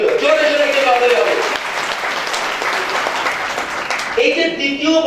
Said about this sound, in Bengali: জোরে জোরে একটা করতালি হবে